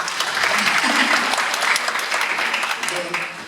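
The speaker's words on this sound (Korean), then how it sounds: "질의응답에 박수가 나온 건 처음입니다." An audience at a question-and-answer session breaks into brief, dense applause lasting a few seconds, with a murmur of voices mixed in before it tapers off.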